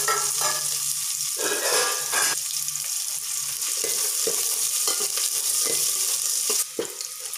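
Small onions fry to golden brown in oil for village-style kudal kulambu, giving a continuous hiss and crackle broken by repeated spoon-stirring scrapes, close and steady.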